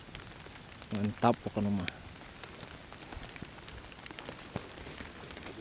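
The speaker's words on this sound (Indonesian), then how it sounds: "Hujannya masih ngerincik." Light drizzling rain patters faintly and steadily on a mountain trail near Cikijing, Majalengka, a soft continuous hiss throughout, with a brief burst of nearby talk early on.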